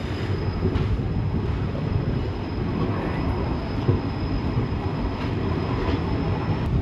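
Inside a carriage of the Mysore–Talaguppa Intercity Express at Talaguppa station, a steady low rail rumble continues with occasional clanks and a faint high whine above it, no voices present.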